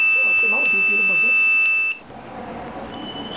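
A buzzer on a voice-controlled robot built around an LPC2148 board, triggered by smoke detection, gives a steady high electronic tone that cuts off partway through, with faint room noise and talk in the background.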